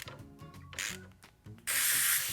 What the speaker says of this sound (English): Rifle bleed down